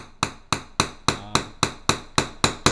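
A hammer taps down the axle rivet of a Matchbox Ford GT die-cast toy car during restoration, ten sharp metallic strikes in a steady rhythm about a quarter second apart, close and alone.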